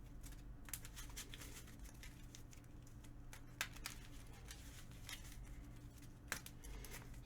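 Game cards from a Marvel Champions deck shuffled by hand at a table, a run of quick soft riffling clicks and flutters with a few sharper snaps, close and quiet, no talk.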